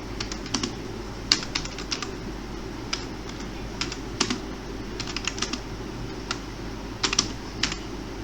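Code being typed on a computer keyboard for a Python conditional example: quiet, irregular clicking keystrokes in short bursts and single taps over a low steady background hum, with no talking.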